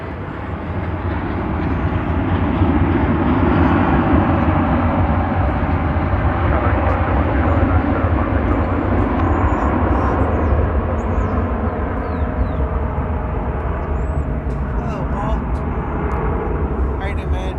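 An Airbus A321 takes off at Dallas/Fort Worth Airport with a loud, steady jet engine roar that builds and holds, broad and rumbling, with faint chirps of birds high above near the end.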